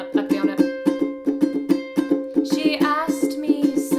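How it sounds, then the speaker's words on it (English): A ukulele is strummed in a steady down, down, up, down, up pattern for an intro, close and clear, with even rhythmic chord strokes and no voice. "the strumming pattern that I'm going to use for the intro is down, down, up, down, up"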